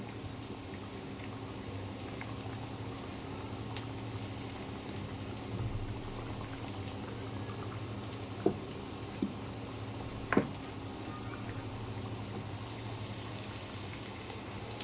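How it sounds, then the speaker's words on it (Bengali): Pangas fish curry simmering in a covered pot on the stove, giving a steady low bubbling hiss throughout with a few faint clicks and knocks, no voices. "মাছ প্রায় হয়ে গেছে আমার, একটু পরেই নামিয়ে নেব।"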